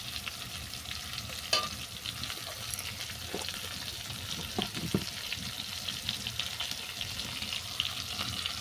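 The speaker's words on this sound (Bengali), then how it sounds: "আবার আমি মশলাটাকে ভালো করে কষিয়ে নিচ্ছি" Spice paste of ground mustard, poppy seed and ginger fries in a pan while being stirred, giving a steady close sizzle broken by scraping strokes and soft clicks, with no voices.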